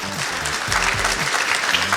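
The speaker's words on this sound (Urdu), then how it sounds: "بہت ساری تالیاں" An indoor audience at a fundraising event in Canada for Pakistan flood victims applauds, a dense, steady patter of many hands clapping close by throughout.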